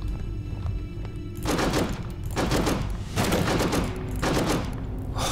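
Bursts of heavy gunfire from the PC war survival game This War of Mine, several loud volleys separated by brief pauses over a steady low background rumble.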